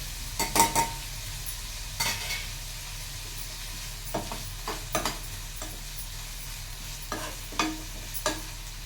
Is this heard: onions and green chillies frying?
yes